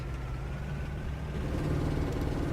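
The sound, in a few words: Magirus Deutz truck engine revving, Euro Truck Simulator 2 video game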